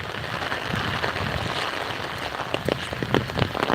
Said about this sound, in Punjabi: ਆਹ ਹਾਲ ਬਹੁਤ ਜ਼ਿਆਦਾ ਮੀਂਹ ਆ